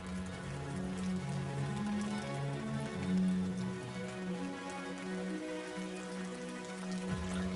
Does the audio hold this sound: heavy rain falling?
yes